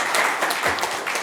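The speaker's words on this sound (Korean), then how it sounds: "다시 한번 큰 박수 부탁드리고요" An audience applauds at a policy seminar on suicide prevention held at the National Assembly, a steady wash of clapping filling the moment with no one talking over it.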